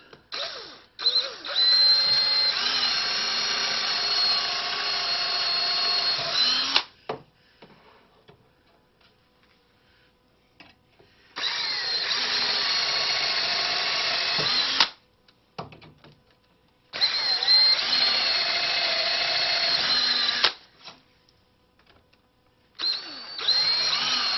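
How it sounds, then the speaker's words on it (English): A power drill whirs while drilling pilot holes for stair treads, in three long bursts of several seconds each, loud and close, separated by quiet pauses, with a brief fourth start at the end. "just drill some pilot holes"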